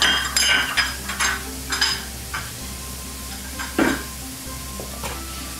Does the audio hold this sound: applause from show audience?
no